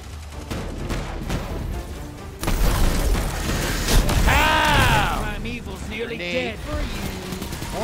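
Gunfire in the video game Destiny 2, with weapon shots and booms bursting out in a loud mix under excited talk and game effects.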